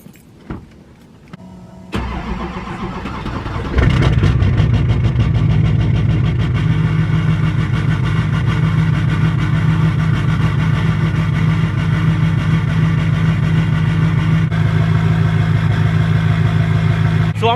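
A 24V Cummins diesel truck engine cranks over cold, catches and settles into a loud, rough, steady idle close by, the clattering rumble continuing alone without speech.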